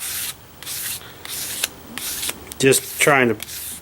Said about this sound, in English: I'm just taking the block with the emery cloth in it, and it's a real fine emery cloth, and I'm just running it up and down each side